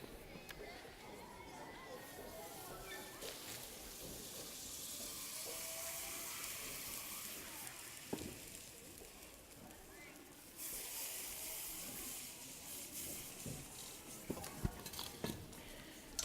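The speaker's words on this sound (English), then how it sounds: "First of all, we start with the liquid nitrogen." Liquid nitrogen is poured at a live science show, giving a steady hiss and sizzle with clinks of metal containers and a louder rush of boiling vapour partway through, under faint voices.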